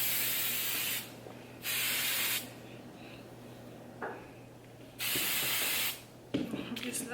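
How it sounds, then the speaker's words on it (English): Hair spray is sprayed onto hair in three or four separate bursts, each a steady hissing spray lasting about a second, close and fairly loud, with quiet gaps and a light clatter near the end. "I'm gonna spray my hair a little bit."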